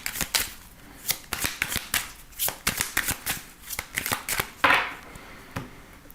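Oracle cards being shuffled and cut during a weekly reading, a rapid series of crisp riffling slaps and flicks close by, steady and moderately loud with no talking.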